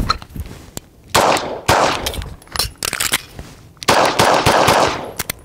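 Pistol gunshots on a F.A.S.T. shooting drill run crack out in quick succession, loud and close, several sharp reports in tight groups with brief pauses between strings.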